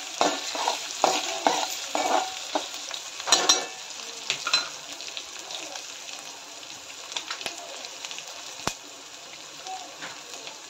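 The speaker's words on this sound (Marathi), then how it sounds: "बारीक कट केलेले लसूण, लसूण आणि व्यवस्थित परतून घ्यायचे" Finely chopped garlic stir-fries in hot oil, a soft steady sizzle with scraping stirs near the start, settling into a quieter continuous crackle.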